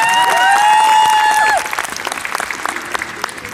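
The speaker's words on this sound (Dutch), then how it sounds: "graag een applaus voor Lore" Applause and cheering for a finalist at a Miss Wellness Beauty pageant, loud clapping with shrill whistles and cheers at first, then dropping to a lighter patter of scattered claps.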